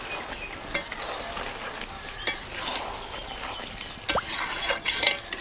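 Shukto being stirred in a pan with ghee added, a steady low sizzle under a few sharp scrapes and clinks of the spoon spread across the stretch, with no voices.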